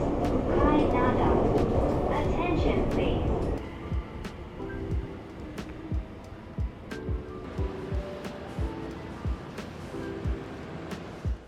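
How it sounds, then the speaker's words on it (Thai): Inside a Sanyo Line train riding near Hiroshima, a steady rumble gives way to regular rhythmic clacks of wheels over rail joints, with a recorded announcement voice at the start. "เดี๋ยวเราก็จะนั่งรถไฟ ซันโยไลน์นะครับ"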